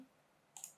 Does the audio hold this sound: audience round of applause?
no